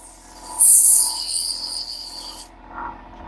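A wooden bowl is sanded with 150 grit sandpaper, giving a hissing, scratchy rasp that swells and fades over a couple of seconds, close and fairly loud, then drops away.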